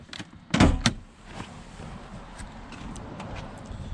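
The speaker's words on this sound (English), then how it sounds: "make sure that door closes" A solid thump of a Toyota car door shutting near the start, with a second lighter knock after it, then quiet background hum and faint clicks.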